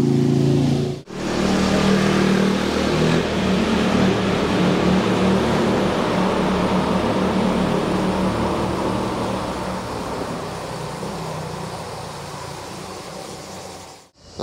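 Motorcycles and traffic roaring through a road tunnel near Lake Garda, a loud, echoing engine rumble that swells and slowly fades over several seconds, with a brief gap near the start and another at the end.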